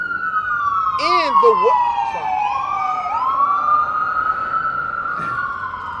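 An ambulance siren sweeps past outdoors in the street, its wailing tone rising and falling steadily and loud throughout, with brief whoops and someone talking over it.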